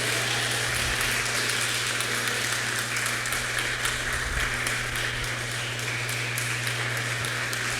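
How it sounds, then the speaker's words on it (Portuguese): Church congregation applauding the Lord during a worship service, a sustained dense wash of clapping that fills the room steadily from start to finish, loud and continuous with no pauses. "Então aplauda ao Senhor."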